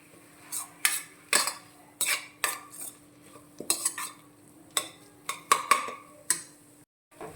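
A spoon stirs kulambu masala into a curry in a metal pan, giving a series of distinct scraping clinks at an uneven rhythm, close and fairly loud, with no one speaking.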